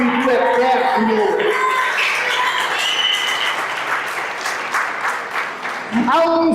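A church congregation applauds in a dense, sustained wash of clapping, while a preacher keeps talking loudly over it and a voice rises again at the end.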